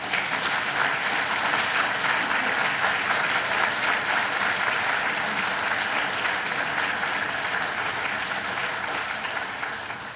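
An audience applauds to welcome George Shultz at a lecture, steady dense clapping filling the hall, sustained and even before tapering slightly at the end.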